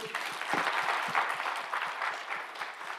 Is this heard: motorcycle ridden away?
no